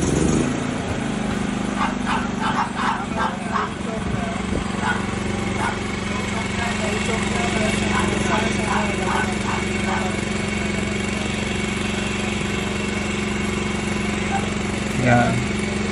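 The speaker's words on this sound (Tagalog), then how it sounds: "Automatic na daw siyang babalik once na mag-start yung generator." A portable generator engine runs steadily after a single manual pull start with the choke set, a constant low hum that holds throughout, with occasional intermittent clicking and brief ambient noises over it.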